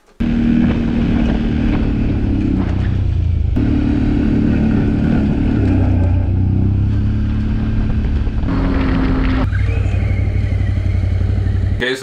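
A Traxxas X-Maxx RC monster truck drives with a loud, steady motor whine and rattling clatter that runs almost the whole time, shifting in pitch a few times.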